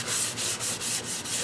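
Steady rhythmic rubbing of Yorkshire Grit abrasive paste across a square poplar wood platter, close and fairly quiet, with regular back-and-forth strokes roughly every quarter second.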